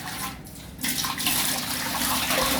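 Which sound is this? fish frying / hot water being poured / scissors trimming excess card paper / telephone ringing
hot water being poured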